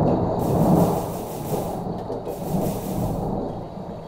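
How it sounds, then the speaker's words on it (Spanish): Thunder from a nearby lightning strike rolls in deep, rumbling waves, loud and sustained, swelling and fading twice with no other sounds over it. "es mero relámpago el que cayó"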